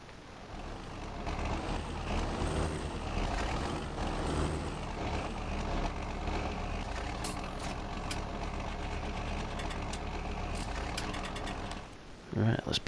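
Tractor engine in Farming Simulator 19 running in a steady, low idling drone that holds for most of the stretch before dropping off near the end, moderately loud and close.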